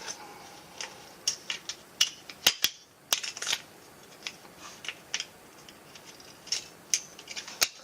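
Close scissors cut an object into quarters in a craft setting, with a series of sharp, irregular snips and clicks at uneven intervals and no voices.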